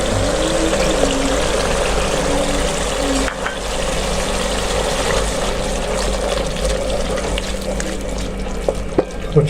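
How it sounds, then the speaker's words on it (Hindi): Garlic and ginger fry in oil for an aloo chicken curry, a loud, continuous close hiss and bubbling sizzle that holds steady throughout with a few faint clicks near the end. "लहसुन अदरक हमारा अच्छा सा भून रहा है"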